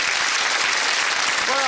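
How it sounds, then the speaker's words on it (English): A studio audience at a TV game show bursts into loud, dense applause for a contestant, a thick continuous wash of clapping that holds steady at close range with a brief voice surfacing near the end. "Round of applause for Jas."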